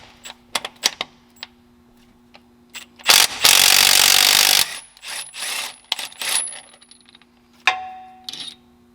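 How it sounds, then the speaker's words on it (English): An impact gun fitted with a 21mm socket hammers at a harmonic balancer bolt on a crankshaft pulley. It fires one loud sustained rattling burst of about a second and a half, with short metallic clicks and clanks of handling before and after. "Alright, so we got our impact gun and a 21mm socket."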